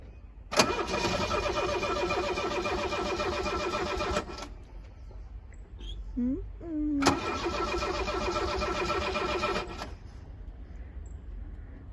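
A Chevrolet Monza's engine cranks in the cold but fails to start: two long, loud bursts of rapid starter whirring, each about four seconds, separated by a pause with brief talk.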